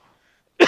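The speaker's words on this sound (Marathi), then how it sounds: "हा जरा खोकला येतोय" A single sharp, close cough bursts out after near silence, from a man in a village who has had a persistent cough for about a month.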